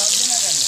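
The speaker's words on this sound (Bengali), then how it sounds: "আলুগুলো লাল করে ভেজে নিচ্ছি।" Potatoes frying in hot oil give a steady bright sizzle, close and fairly loud, for a brief moment with no pauses.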